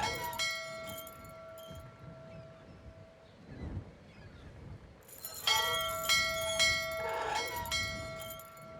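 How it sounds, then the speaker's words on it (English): A bell rung several times in the video game Syberia, with repeated bright, ringing strikes and lingering overtones, the chimes coming in two bursts separated by a quieter stretch of low ambient rumble. "I'll go over here and ring the bell. I'll ring it several times for you."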